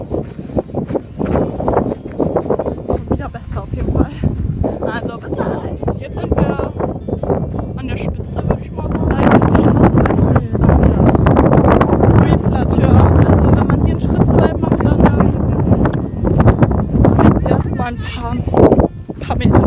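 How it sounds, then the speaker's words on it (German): Strong wind on a clifftop at Cap Leucate, France, buffets the microphone in a loud, steady roar that intensifies partway through, with people talking over it. "Und zum Glück ist es windig."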